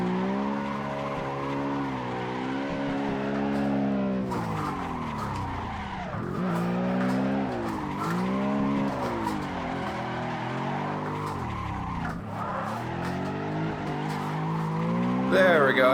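A BMW E92 drifts in Assetto Corsa, its tires screeching in long, wavering squeals over a revving engine, loud and continuous, with the pitch rising and falling through each slide.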